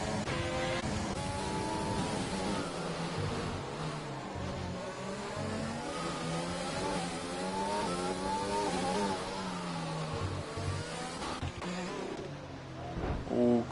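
Race car engines in a sim racing esports video game, several cars revving and shifting through gears with rising and falling whines, loud and continuous, with close engine drones layered over one another.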